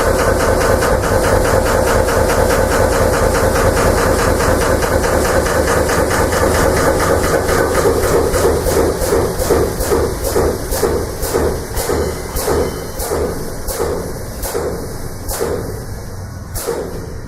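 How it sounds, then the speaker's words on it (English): A pump on a vacuum test rig deadheading and building pressure: loud continuous mechanical hiss and drone that shifts into a rapid, regular pulsing chug which slows steadily as pressure rises, close and alone. "Once my clamping arms touch my sill plate, the pump will deadhead and start building pressure."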